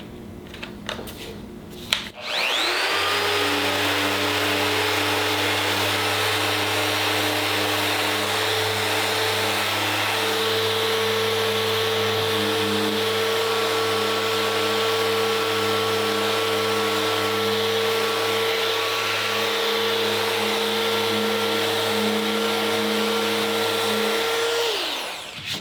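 A Festool RO 90 sander starting up and running continuously on a painted plywood tabletop, a loud steady whine with a deep motor hum that ramps up after a brief clunk and winds down at the end.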